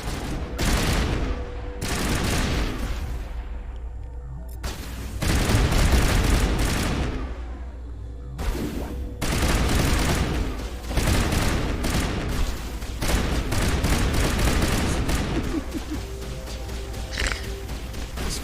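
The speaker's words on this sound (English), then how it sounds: "Explosive ammo is just so good." Rapid bursts of explosive-ammo gunfire in the Mass Effect Legendary Edition shooter, loud clattering volleys in several long strings separated by short pauses, with booming impacts mixed in.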